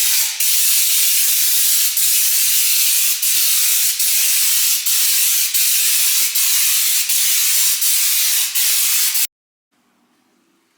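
Gravitex underbody stone chip coating is sprayed onto a Ford Escort Mk2 rally car shell in a steady, loud hiss with slight regular pulses, and it cuts off abruptly near the end.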